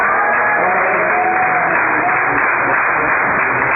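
A church congregation claps continuously at a Pentecost service, a loud, dense, unbroken wash of hands with no clear speech over it.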